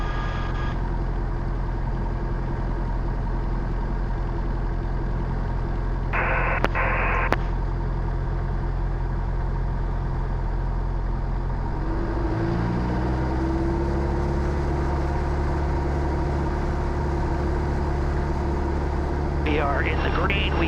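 Inside a Cessna Skyhawk at Nashua, New Hampshire, a steady piston engine drones loudly throughout with a strong low hum, and radio chatter and cockpit talk sound over it.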